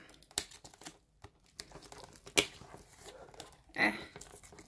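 Protective covering being peeled off an acrylic-poured painted toilet seat, quiet close crinkling and a few sharp tearing bursts, with soft handling noise between them and no talking.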